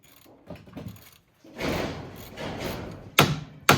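Strut bolts on a BMW X5 knocked loose with a few separate hammer taps on metal, with shuffling mechanical handling noise between the sharp, close knocks.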